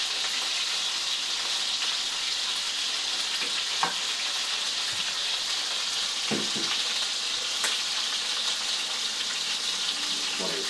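Vegetables and large wild-caught shrimp sizzle in a pan, a constant hissing fry with occasional clicks and scrapes of stirring, close and without talk.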